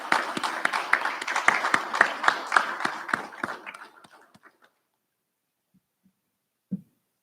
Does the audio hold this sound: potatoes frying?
no